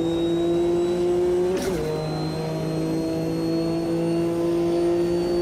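A GT race car engine in the Automobilista 2 racing game drones loud and steady, pitch dipping briefly as the car slides sideways with smoking rear wheels, then settling again at a constant high whine.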